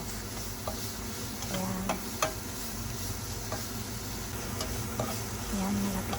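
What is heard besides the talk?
onion frying in pan with pork chop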